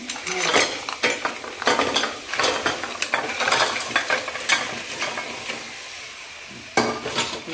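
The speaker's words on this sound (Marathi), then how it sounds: "पूर्ण असे ढवळून घ्यायचं" Spicy crab masala is stirred in a pan, with repeated scraping and clanking of a spoon against metal in an uneven rhythm over a continuous sizzle, close and fairly loud.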